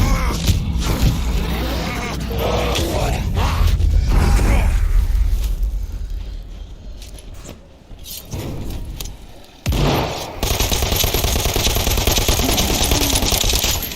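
Rapid vampiric SMG fire in Dead Island 2 rattles through a dense, loud fight mix of creaks, booms and mechanical clatter, the bursts dropping briefly before the chaos picks up again.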